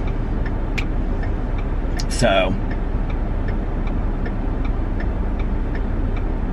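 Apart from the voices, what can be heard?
car turn signal ticking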